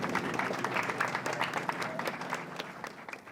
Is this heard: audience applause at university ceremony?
yes